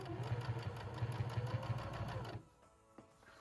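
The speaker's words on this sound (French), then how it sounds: "Maintenant, on va pouvoir faire la couture tout au long de la fermeture." Sewing machine stitching along the zipper of a fabric bag, a rapid even mechanical chatter that runs for a couple of seconds, then stops, leaving faint handling noise.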